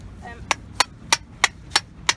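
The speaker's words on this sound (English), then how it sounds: "then we hammer it in" A baseline stake being hammered into the foreshore, six sharp, evenly spaced strikes ringing out close and loud in a steady rhythm.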